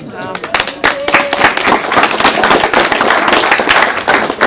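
Audience clapping during introductions at a school district board meeting, continuous crowded claps with sharp transients throughout, fairly loud and close, under light talk.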